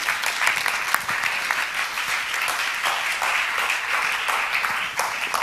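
A steady, fairly loud round of audience clapping following a keynote address, continuous throughout with a few sharper individual claps standing out.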